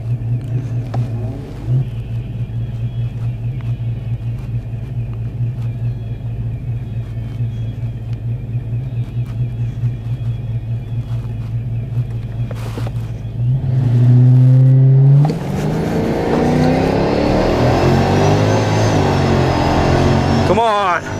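A drag racing car idles with a low, steady rumble at the line, then launches hard and accelerates loudly down the track, its engine note climbing through gear changes, while a voice talks over the early idle.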